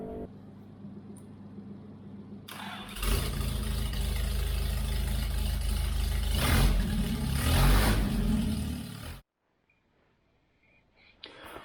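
An Austin Healey engine being tuned after timing and carburetor balancing starts up and runs steadily with a loud, rough low rumble for several seconds, then cuts off abruptly into near silence.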